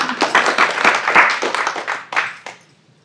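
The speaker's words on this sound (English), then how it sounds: "I expected more applause." An audience claps after a question-and-answer session with young construction professionals: a short burst of applause, moderately close, that thins out and fades to silence within about three seconds.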